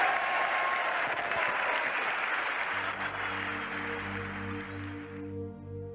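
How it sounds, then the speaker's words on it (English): An audience gives a round of applause for the returning B-52 bomber crews of the Vietnam War, steady and full at first, then fading as a sustained musical tone takes over. "All of us would like to join in a round of applause for the brave men that took those B-52s in and did the job."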